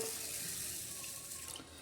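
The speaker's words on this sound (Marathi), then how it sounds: "परत एकदा आपण पाणी टाकणार आहोत" Water runs steadily from a tap into a vessel of green mung beans being washed, a continuous close splashing pour with no voices.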